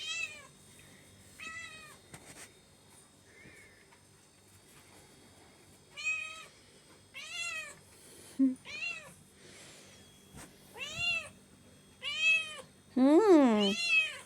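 A wild cat meows repeatedly, close by, in short clear calls that grow louder toward the end, with a few quiet voices in the background.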